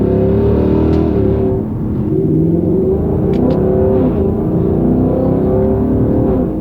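A new Ford Mustang with a torque-converter automatic transmission accelerates hard, its engine note loud and continuous, with rising revs that drop back as gears shift.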